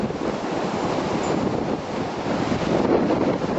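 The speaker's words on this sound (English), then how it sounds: "There's the wind for you." Storm wind of about 70 to 75 mph roars steadily and loudly, a dense continuous whoosh buffeting the microphone with no voices.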